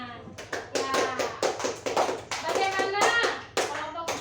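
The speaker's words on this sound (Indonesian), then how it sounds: "bagus, tepuk tangan ya" A primary-school class in Indonesia claps hands in a rhythmic pattern during a science lesson, sharp close taps in quick groups mixed with children's voices chanting along.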